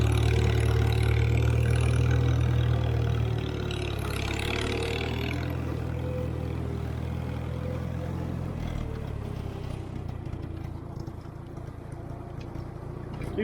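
An IH McCormick Farmall 350 tractor engine runs with a steady low drone that eases down to a quieter idle partway through, its rumble continuing evenly to the end.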